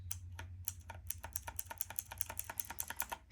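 An old mechanical computer keyboard clatters under fast, steady typing, a quick run of crisp keystrokes heard close and fairly quiet over a low hum.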